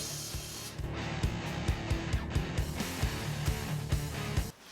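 Carburetor cleaner sprayed through the small openings of a 1977 Buick Century carburetor: a run of short, rhythmic hissing spray bursts, close and fairly loud, with no talking.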